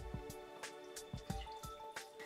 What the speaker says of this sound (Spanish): Escurrimos el agua